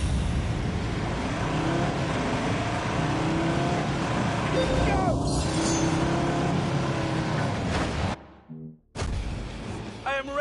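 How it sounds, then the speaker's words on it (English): Pickup truck with a five-cylinder engine racing off-road in Wales in The Grand Tour video game, a loud continuous engine drone with a brief cut-out near the end, voice speaking over it. "I am racing a pickup truck off-road in Wales to refuel a helicopter."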